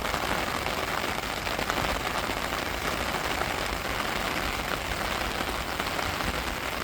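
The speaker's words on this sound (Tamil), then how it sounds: "பூமியெலாம் சரியான மழை நைட்லையும் பேஞ்சிச்சு, இப்போயும் பேஞ்சிக்கிட்டு இருக்குது." Steady morning rain pattering on surfaces after a night of rainfall, a dense, even hiss of drops that stays constant throughout with no voices.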